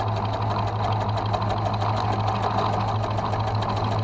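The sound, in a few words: sewing machine stitching applique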